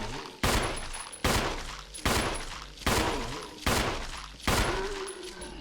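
Seven evenly spaced heavy gunshots from a Resident Evil firearm, each a sharp loud crack followed by a decaying echo tail, roughly one per second, with faint game ambience between them.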